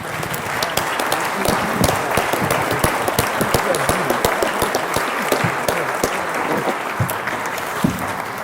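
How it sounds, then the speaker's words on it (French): Audience applause at a conference session, a sustained dense roar of many hands clapping at steady loudness from start to finish. "qu'on l'applaudisse collectivement"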